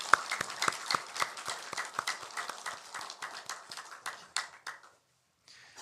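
A church congregation claps together with the choir in a steady, rhythmic beat, a crisp series of evenly spaced claps that thins and stops near the end.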